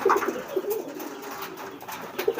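Pigeons coo in short, soft bursts scattered through the clip, close by over faint background noise.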